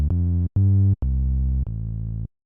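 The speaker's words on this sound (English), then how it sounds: "made another sine wave, turned on the sync half window, just turned it up a bit" Synth sine-wave bass with the sync half window turned up a little, played as four sustained harmonic notes with short gaps between them, steady and fairly loud, with no talking.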